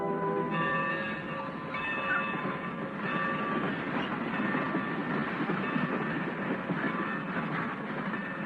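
A train rolls along steadily in a 1951 Western setting, its wheels rumbling and clattering in a continuous, moderately loud rhythm, with faint metallic squeals above the noise.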